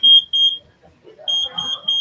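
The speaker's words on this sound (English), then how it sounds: "See, it beeps 3 times because it senses an object." An electronic sensor device at a winter STEM expo gives short, clear beeps in quick sequence, a pair of tones, a pause, then a run of three, with faint chatter and movement underneath.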